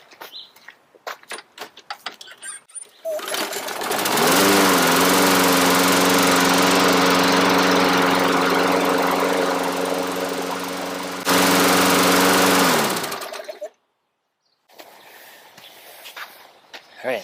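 Toro Personal Pace lawn mower cold starting on the first pull, then running loud and steady close by for several seconds before shutting off, with a little talk before and after.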